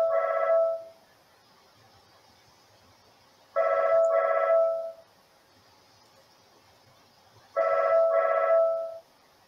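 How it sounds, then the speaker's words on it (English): A phone rings in three separate double-pulse bursts, evenly spaced several seconds apart, clear and close against a quiet background. "my phone is ringing"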